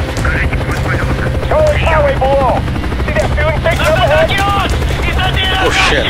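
Twin-rotor helicopter in the video game Call of Duty: Black Ops, a steady loud rotor thrum running throughout alongside distant gunfire bursts, with people shouting over it.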